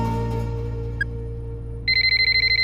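In a Tamil movie scene, a telephone rings with a rapid repeating electronic trill that starts partway through over a steady background hum, with no talking.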